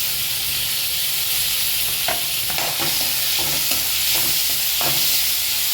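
Onion, tomato and ginger-garlic paste sauté in a pan with a steady sizzle and hiss, while a spoon scrapes and stirs in several short strokes close by.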